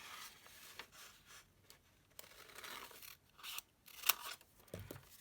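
Scissors snip through paper while cutting out a hexagon shape, a series of close, crisp cuts with soft rustling and pauses in between.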